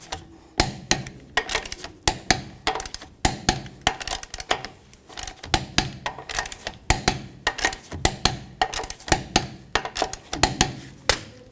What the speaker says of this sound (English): We're going to torque these to 80 foot-pounds.